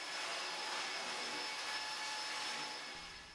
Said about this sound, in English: Using a planer and a belt sander